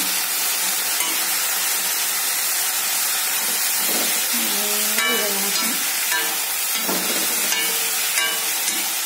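Sliced bitter gourd stir-fry sizzling steadily as it is sautéed in a pan, a continuous loud hiss with light stirring scrapes and clinks over it, no talking.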